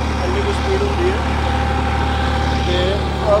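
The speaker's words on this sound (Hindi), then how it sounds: "ये आप दूजे की स्पीड बढ़ाती, ट्रैक्टर की आवाज़ भी नहीं बदली।" A Massey Ferguson 9500 tractor pulling a super seeder through a field, with its engine running at a steady drone beneath someone talking over it.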